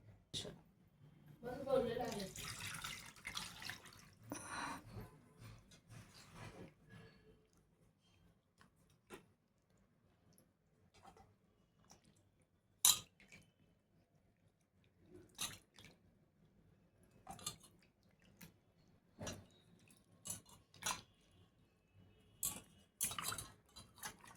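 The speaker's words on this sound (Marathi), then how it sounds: "ते आता आपण स्वच्छ धुवून घ्यायचे, 2 वेळा स्वच्छ धुवायचे." Mackerel (bangda) fish being rinsed in water in a kitchen, with quiet splashing and scattered clinks and knocks of a vessel, the sounds intermittent and close, while a person talks.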